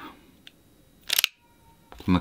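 Metal mechanism of a Kokusai New M29 4-inch model revolver, made of metal with a resin grip, giving a few short, crisp metallic clicks and a brief rattling burst, close and fairly quiet.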